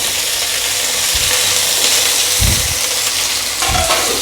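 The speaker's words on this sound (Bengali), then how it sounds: "এবার ডুমো ডুমো করে কেটে রাখা আলুগুলো এর মধ্যে দিয়ে দিলাম।" Diced potatoes fry with browned onions in a pan for a taro and shrimp curry, a loud, dense sizzle with a few low thumps from stirring.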